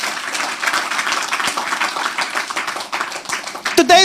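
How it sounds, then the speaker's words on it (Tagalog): A church congregation breaks into loud applause for the Lord, dense clapping that fills the room and carries on under a voice, ending with a brief burst of shouting. "Isang malakas na palakpak kay Lord"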